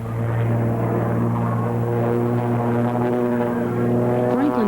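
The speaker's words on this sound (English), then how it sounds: "just an ear-busting black and silver biplane packing a powerful 600 horsepower Pratt &" A 1937 Waco biplane with a 600 hp Pratt & Whitney engine roars loudly and steadily at an airshow, its deep propeller drone close and continuous for the whole stretch.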